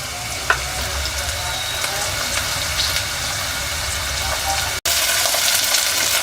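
Ginger-garlic paste with turmeric and onion frying in hot oil in a shrimp and brinjal curry pan, a steady close sizzle with faint stirring clinks, briefly cut off for an instant before resuming.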